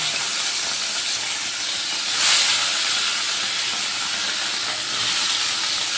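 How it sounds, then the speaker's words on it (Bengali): Tengra fish coated in salt and turmeric fry in hot mustard oil in a kadai, a constant loud hissing sizzle that swells briefly midway before settling. "এবার মাছগুলো আমি ভালো করে ভেজে নেবো"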